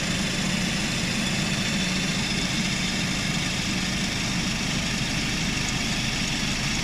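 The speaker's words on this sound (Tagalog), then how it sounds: "So umaandar na rin yung ating auxiliary fan ng sabay sa ating compressor" In a Suzuki Every Wagon DA64W, the auxiliary fan and AC compressor run together over the idling engine, making a steady, dense whir and low hum that stays constant throughout with no talking.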